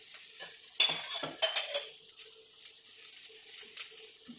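A stuffed roti made from leftover roti cooks in a little oil on a griddle over low heat, giving a faint, soft sizzle broken by a few quiet scraping and stirring clinks.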